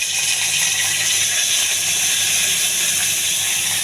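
Curry leaves dropped into hot oil in a pot while tempering spices for a dal dish give off a loud, steady, unbroken sizzling hiss from start to finish.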